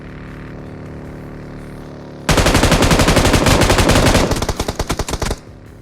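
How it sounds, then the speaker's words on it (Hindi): Rapid automatic gunfire in the BGMI battle game erupts behind the player after a quiet hum, a loud close burst of fast repeated shots. It thins into slower, spaced rounds before stopping. "पीछे की साइड से गोली चल रही होती है बहुत तेज़"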